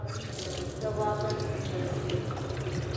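Water running from a tap in an apartment, a steady close splashing stream into a sink that continues throughout, with a voice speaking briefly over it.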